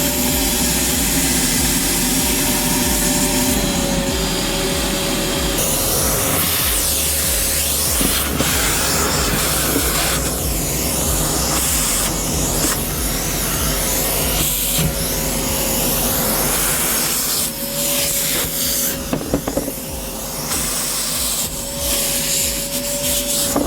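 Vacmaster VJC507P 4-gallon, 5 peak hp professional wet/dry vacuum cleaner running, a loud continuous roaring whine with steady suction noise that shifts in pitch as the nozzle is moved and blocked, close up and without talking.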